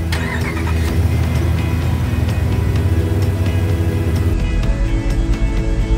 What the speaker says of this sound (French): Sixième étape, démarrer le véhicule en panne.